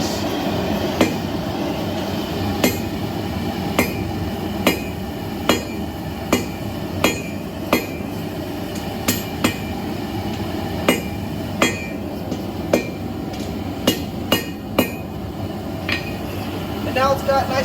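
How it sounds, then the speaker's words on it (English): A blacksmith's hammer striking a hot metal taper on the sharp part of an anvil, ringing out in a steady series of loud, evenly spaced metallic clangs over a low shop rumble. "we want to make sure we hit it like this"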